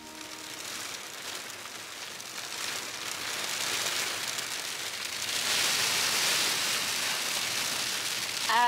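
Hailstones fall outdoors in winter on the Isle of Skye, making a dense, steady hiss of small impacts that swells louder in the second half, with no voices.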